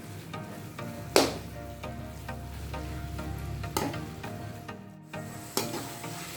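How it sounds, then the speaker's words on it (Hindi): Carrots for gajar ka halwa are stirred in a pan, giving a soft sizzle under repeated scraping strokes of a spoon, with a few sharper clanks against the pan at irregular intervals and no talking. "इसको मिक्स कर लेते हैं अच्छे से।"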